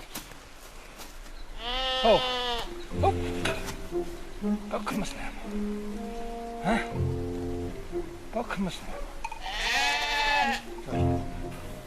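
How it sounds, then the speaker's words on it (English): Sheep bleat loudly and nearby in snowy winter mountains, two long wavering calls standing out, while someone speaks steadily over the animals throughout. "The natural response of sheep is to flee any imminent threat"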